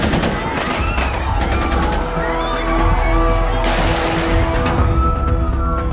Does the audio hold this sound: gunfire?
yes